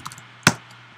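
A single sharp keystroke on a computer keyboard, close and crisp, lands while code is typed, followed by quiet.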